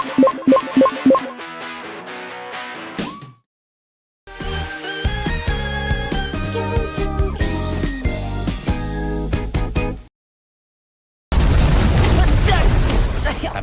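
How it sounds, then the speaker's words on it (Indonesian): A magic carpet in an animated donghua series, Wudong Qian Kun, lets out a big energy explosion: booming bursts with bright shimmering tinkles, broken by two short silences and ending in a dense roaring blast, with no talk. "karpet aneh itu mengeluarkan ledakan energi yang cukup besar"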